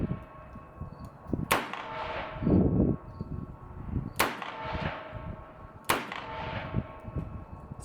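A Colt Trooper Mark III revolver firing PMC .357 rounds at a range, three sharp, loud reports spaced about two seconds apart, each followed by a short ringing decay, with faint handling noise between shots.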